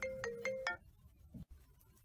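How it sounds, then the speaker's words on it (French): A mobile phone ringtone plays a short melodic phrase of four bright repeated notes, fairly close and clear, then stops and leaves quiet room tone with a faint soft noise. "Oh, c'est mon téléphone."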